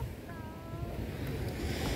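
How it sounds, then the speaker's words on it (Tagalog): Ocean waves washing in Gumaos Bay, a low, continuous surging wash with wind buffeting the microphone, moderately loud and close, with a brief higher tone near the start. "Oh, malakas yung alon."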